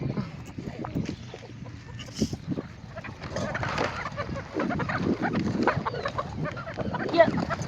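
Chickens and a rooster cluck in a rural herding family's yard, scattered mid-distance calls over a busy background of rustling, thumps and shuffling movement.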